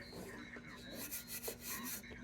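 Sandpaper rubbing lightly across an oxidized brass C.T. Ham No.0 oval tube fireman's lantern, a soft continuous rasp of close, short strokes with a steady faint hum underneath.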